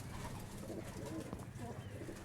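Pigeons of the Shaheen, Ababeel and Taar breeds coo softly in a low, muffled murmur with faint background noise, steady and somewhat distant throughout.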